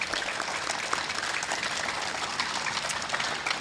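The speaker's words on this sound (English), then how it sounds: "So I'd like to ask for just a quick round of applause for these two." An audience at a children's hospital ribbon cutting and groundbreaking gives steady, dense applause, a continuous crowd clapping that holds an even level for nearly four seconds.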